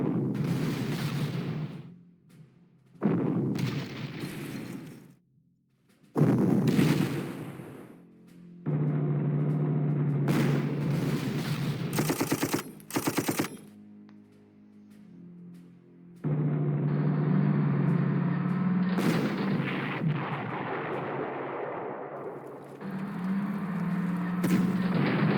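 Tank guns in the World War II strategy game Panzer Corps fire heavy booming blasts that roll out in repeated bursts separated by quiet gaps, loud and close.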